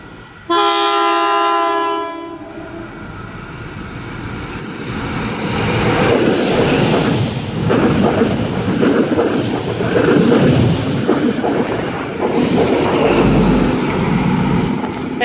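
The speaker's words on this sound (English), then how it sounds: "And we have NT35 passing platform number 2." An NT35 XPT passenger train, led by power car XP2000 with XP2012 at the rear, passes platform 2 at Koolewong station: a loud multi-tone horn blast opens, then the heavy, steady rumble and rush of the train running through.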